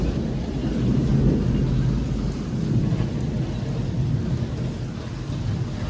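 A thunderstorm with rain and hail: a loud, continuous low rumble of thunder over a steady wash of heavy rainfall, heard close and without any voices.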